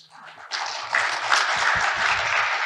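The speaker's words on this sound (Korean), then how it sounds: "한 분 한 분 소개해 드릴 때마다 큰 박수로 환영해 주십시오" Audience applause welcomes a newly appointed university president at a Korean university council general assembly, starting faint and swelling into a steady, dense round of clapping that holds to the end.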